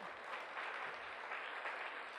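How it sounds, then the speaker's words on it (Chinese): An audience applauds a teacher named Liang, a sustained patter of many hands clapping at an even level, with a faint voice underneath. "各位同学，我们先用一个掌声给梁逸鹏梁老师哦"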